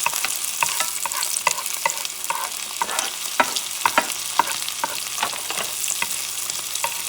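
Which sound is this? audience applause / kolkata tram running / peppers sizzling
peppers sizzling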